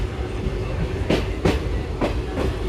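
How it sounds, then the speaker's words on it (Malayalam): A train pulls into Manjeshwar railway station in Kerala, its wheels giving a steady low rumble broken by sharp rhythmic clacks over rail joints, about four evenly spaced beats, close and fairly loud. "മഞ്ചേശ്വർ റെയിൽവേ സ്റ്റേഷനിലേക്ക് ട്രെയിൻ എത്തിക്കൊണ്ടിരിക്കുകയാണ്"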